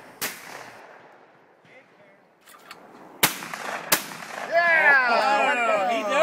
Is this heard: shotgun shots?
yes